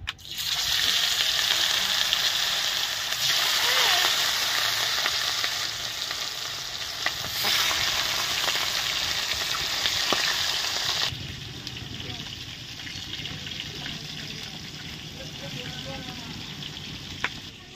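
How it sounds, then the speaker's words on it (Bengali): Rui fish fry in a pan with a loud, steady hissing sizzle that drops to a softer, quieter sizzle partway through. "মাছগুলো ভাজা হবে এবারে"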